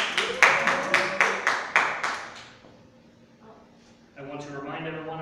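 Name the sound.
audience clapping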